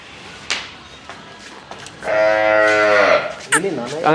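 A Gir cross cow gives a single long, loud moo in the middle, after a few scattered quiet knocks and rustles, with a brief rough tail of sound at the end.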